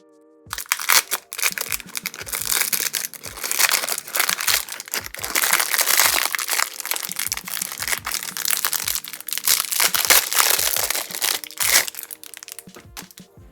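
Paper packaging from a Japan art and stationery haul being opened and crinkled: loud, continuous rustling and crackling close up, with dense crisp crunches and tearing sounds for more than ten seconds.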